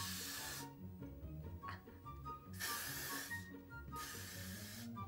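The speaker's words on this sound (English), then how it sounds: "Now I'm just gonna need some hairspray to put it in place." Hairspray hissing from an aerosol can onto styled hair, three long bursts separated by short pauses, close and steady, with no talk.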